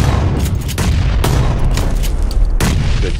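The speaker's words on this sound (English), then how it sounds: "A lot of bullets." Loud, continuous video game gunfire with repeated sharp shots and booming reports layered over dense combat noise, a few strong cracks standing out.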